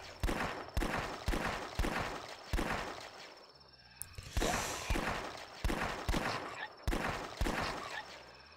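Revolver gunfire from The Last Stand flash zombie game: sharp shots in irregular bursts, each with a short ringing tail, then a brief lull before the shooting resumes at a steady pace.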